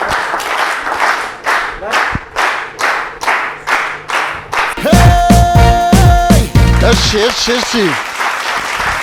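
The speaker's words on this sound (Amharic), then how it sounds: "እስቲ ሞቅ ያለ ጭብጨባ" A studio audience on an Ethiopian TV talk show claps in a steady, unison rhythm of roughly two beats a second. Then the applause swells louder and denser as music and a voice come in on top.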